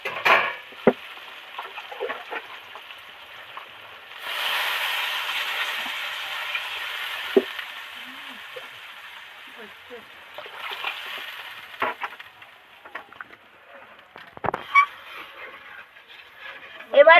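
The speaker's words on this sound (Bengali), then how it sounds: "এবার জল দিয়ে দেব" Water poured into a pan of spiced vegetables for a fish curry, a soft hissing splash and slosh that swells for several seconds, with clinks of the pan and a voice speaking over parts of it.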